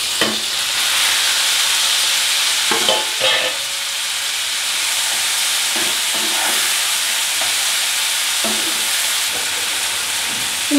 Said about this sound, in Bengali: দেখো রসুন পেঁয়াজগুলো ভাজা ভাজা হয়ে গেছে খুব একটা মানে লাল করে ভাজবো না রসুন পেঁয়াজটা হালকাই ভেজেছি এবার এর মধ্যে দিয়ে দেবো টমেটো